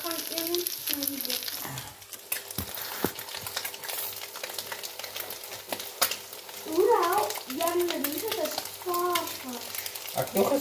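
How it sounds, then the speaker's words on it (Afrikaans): Eggs frying in a pan, a steady sizzle and crackle running throughout, with a few people talking nearby in the middle and near the end. "En my eiertjies braai lekker mense."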